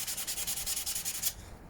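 Rapid rhythmic hand sanding of a Tamiya King Hauler model truck cab, close scratchy strokes at a steady pace that stop abruptly near the end, leaving quiet room tone.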